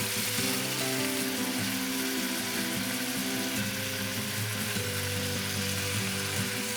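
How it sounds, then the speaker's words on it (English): Marinated beef sears in a hot pan with a steady, loud sizzle, with scraping and stirring clatter from the utensil against the pan throughout. "it's been about 30 seconds, so let's start stirring the beef"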